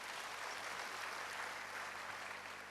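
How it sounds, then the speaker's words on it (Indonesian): A church congregation applauds together for a steady stretch, a dense continuous clatter of many hands heard from within the room, without speech over it. "Berikan tepuk tangan dulu bagi Tuhan."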